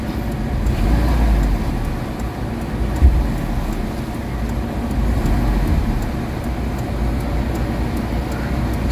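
A Mitsubishi Adventure engine runs smoothly while driving at night after an XADO engine treatment, a steady low rumble with road and traffic noise around it and one brief thump partway through.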